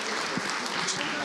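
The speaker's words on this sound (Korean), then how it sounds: "박수로 맞아 주시길 바랍니다." A church congregation applauds during a Sunday worship service, a soft, dense patter of many hands carried evenly throughout, with faint voices beneath.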